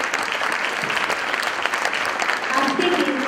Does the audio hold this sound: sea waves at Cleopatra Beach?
no